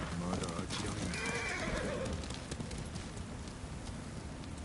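A horse in the video game Ghost of Tsushima gives a short whinny, with faint hoof sounds and a soft, rain-like wash in the background throughout.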